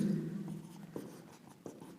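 Marker or chalk writing on a board during a lesson, with short scratchy strokes and a couple of sharper taps, quiet and close.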